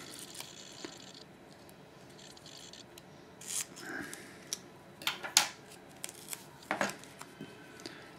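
Scissors snip through a strip of sticky-backed tape at a workbench, giving a few short crisp cuts after a quiet stretch, close and moderately loud.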